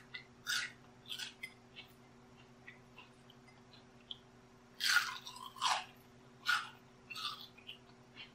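Crunchy fried enoki mushrooms chewed close to the mic, heard as sharp, irregular crisp bursts separated by short pauses, over a faint steady hum, with no talk.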